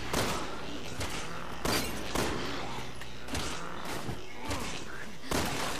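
Resident Evil 6 gunfire: several heavy shots spaced a second or so apart ring out over a busy bed of game sounds and thuds, fairly loud and close.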